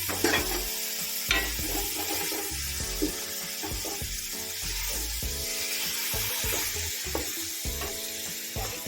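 Aubergines fry in a pan with a constant, moderately loud sizzle, broken by occasional soft knocks and scrapes of stirring.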